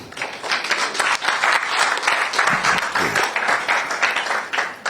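An audience applauds at the launch of the National Science and Maths Quiz championship, a dense, steady crowd clapping that fills the whole stretch without a break.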